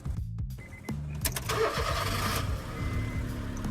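A car engine cranks with a short starter whir and catches, then settles into a steady idle hum that carries on to the end, fairly close and clear with no talk.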